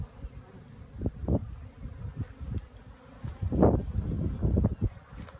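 Honeybees buzz steadily at an open hive during an inspection, a close, continuous hum with louder swells as frames are handled.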